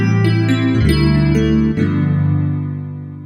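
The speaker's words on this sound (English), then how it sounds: "So let's go for an electric piano sound." Electric piano voice on a Montford MFDP9 digital piano, a few mellow chords and notes played close and clear, ringing out and fading at the end, no talking.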